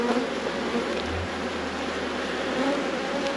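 Agitated honeybees swarm in an opened, queenless hive, producing a steady, dense buzzing drone that holds at an even level throughout, with no voices over it.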